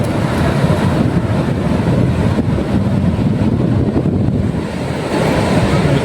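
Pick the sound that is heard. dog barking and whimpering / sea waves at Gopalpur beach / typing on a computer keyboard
sea waves at Gopalpur beach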